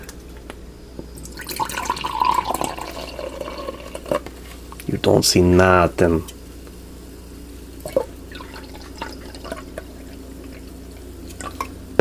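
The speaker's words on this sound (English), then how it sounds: "time to pour out our Claire beverage." Bang Candy Apple Crisp energy drink is poured out, a steady liquid splash and trickle that runs for several seconds, with someone speaking briefly partway through and quiet drips afterward.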